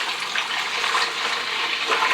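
Water gushes steadily into a container to make brine for smoked chicken, a continuous close splashing pour with no talking.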